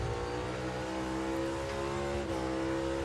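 NASCAR stock cars race at Richmond in 2023, producing a loud, sustained, multi-layered engine roar of the pack running laps together, with steady high revs throughout.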